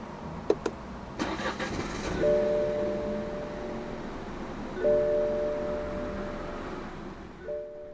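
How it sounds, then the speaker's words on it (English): A few clicks and a brief whir as a 2017 BMW 118i M Sport's start button is pressed, then the engine catches and idles quietly, with chimes sounding at intervals. "Put your foot on the brake and press the start button to the left of the steering wheel."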